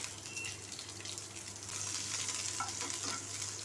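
Mustard seeds, green chili, curry leaves and a little onion temper in hot oil, sizzling softly and steadily at a faint level, then growing slightly louder, with no talking.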